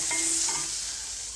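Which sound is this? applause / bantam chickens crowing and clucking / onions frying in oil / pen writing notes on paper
onions frying in oil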